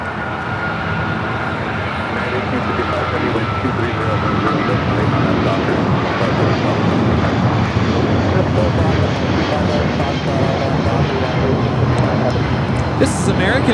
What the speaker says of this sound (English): This is American Airlines 274 taking off to JFK on the 777-200ER